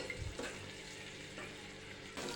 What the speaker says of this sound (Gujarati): તેલ ગરમ થાય એટલે આપણે આ એક ઝીણી સમારેલી ડુંગળી લીધેલી છે તેને આપણે સાતળી લઈશું